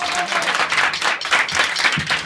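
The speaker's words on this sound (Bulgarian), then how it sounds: "Аплодисменти за най-красивия саксофонист." A live concert audience at Stage 51 claps and applauds a saxophonist, a dense, steady burst of clapping close by with faint crowd noise.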